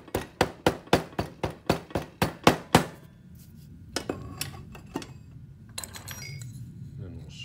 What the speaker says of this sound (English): now we can kind of hammer it down